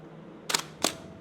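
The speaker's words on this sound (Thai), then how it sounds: "นี่คือเสียงชัตเตอร์" A Hasselblad 2000-series body trips its focal-plane shutter: a sharp close clack, then a second firm snap about a third of a second later, with nothing else around.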